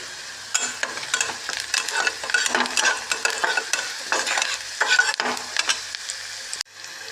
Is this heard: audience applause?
no